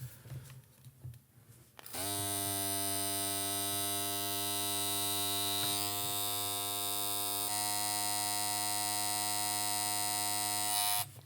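A Gamma Cyborg hair clipper motor switches on after a quiet moment and runs close by with a steady, even electric hum and buzz, holding constant to the end.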